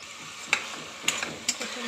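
Potato and cauliflower pieces frying in a pan, a low continuous sizzle broken by three or four sharp scrapes and taps of a spoon against the pan, close up.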